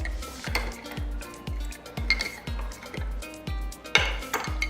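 A metal spoon stirs vegetable broth powder into a cup of water, clinking rhythmically against the vessel in steady, close, moderately loud strokes, with no talking.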